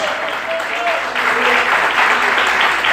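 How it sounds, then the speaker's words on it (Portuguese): A church congregation applauds, a dense wash of clapping that grows fuller after the first second, with voices mixed in. "Aplauda Jesus bem forte."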